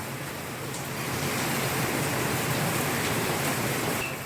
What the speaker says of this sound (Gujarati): અંધાધાર વરસાદ પડે છે